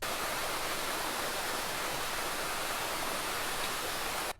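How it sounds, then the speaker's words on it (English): A constant AI-generated waterfall sound effect rushes as a dense, steady roar of falling water that fills the whole stretch, then cuts off abruptly at the end. "I've already generated the sound of the waterfall"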